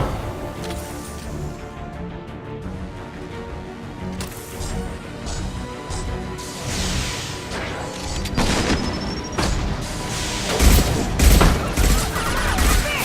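Weapon fire in the video game Mass Effect 2, rapid bursts of shots and booming impacts layered over a game soundtrack, growing louder and denser toward the end, no talk.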